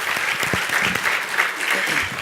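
An audience applauds steadily at a grant awards presentation, a dense continuous patter of clapping hands filling the room at fairly close range throughout.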